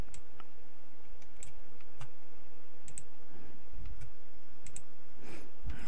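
Scattered sharp clicks, like a computer mouse being clicked, come at irregular intervals over a low steady background hum.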